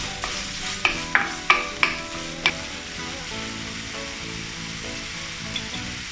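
Minced pork stir-fried in a pan for glass noodles, with a steady sizzle of oil and a run of sharp scraping clacks from the spatula early on, then continued frying and stirring, close and fairly loud.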